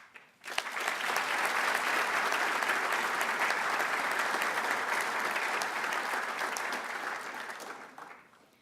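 Sustained applause from an audience honours a book writing team at a U.S. Army Sergeants Major Academy ceremony, rising quickly and holding steady for several seconds before tapering off.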